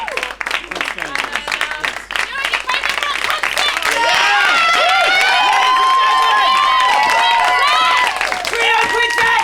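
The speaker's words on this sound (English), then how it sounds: "Let's start with a little bit of a nice little golf clap here." An audience at a live improv comedy show in a theatre gives soft, polite golf-clap applause that swells into louder, fuller clapping and cheering, with a voice talking over it.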